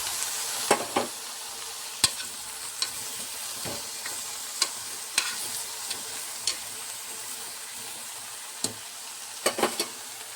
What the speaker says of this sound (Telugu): దీనిలోనే టమాటాలు కూడా వేసేస్తున్నాను